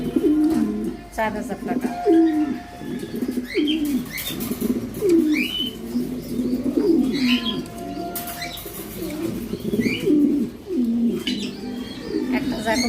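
Racing pigeons coo steadily and close by, with repeated throaty calls running throughout and occasional wing flutters and chirps, while someone talks over them.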